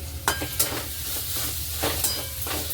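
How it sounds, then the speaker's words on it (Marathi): Paneer bhurji being stirred in a hot pan: a steady, close sizzle with several soft scraping spoon strokes at an uneven rhythm. "असं छान मस्त चारी बाजूने हलवून घ्यायची."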